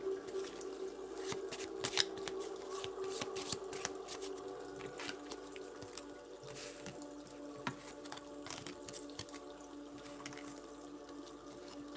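Lenormand cards are shuffled repeatedly up close, a steady run of soft riffling and snapping clicks with no voices.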